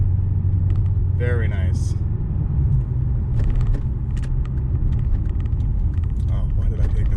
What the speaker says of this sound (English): we put into 1 and floor it, and it automatically shifts up to 2.